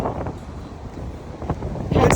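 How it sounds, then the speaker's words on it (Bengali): Strong, gusty wind on Calton Hill in Edinburgh buffets the microphone with a continuous low rumble that swells toward the end, close and loud, with no clear talk. "ক্যালটন হিলে পৌঁছে একটা জিনিস টের পেলাম, সেটা হচ্ছে এখানে বাতাস অনেক তীব্র ছিল"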